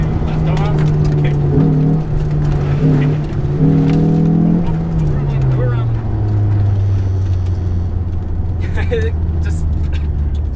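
A BMW car driving on an autocross skid pad at Lime Rock Park, engine droning and shifting pitch as it circles, with a driver talking over the steady motor noise throughout.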